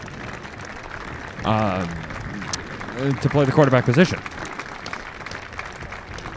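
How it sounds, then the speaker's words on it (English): Spectators at a varsity high school football game clap steadily in the background as a commentator talks over them, the applause a soft, constant patter under the voice. "You hear the claps"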